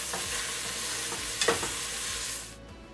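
Minced meat frying over onions with spices and salt for Syrian eggplant maklube, a steady close sizzle with a few stirring scrapes as the mixture is turned, fading out near the end.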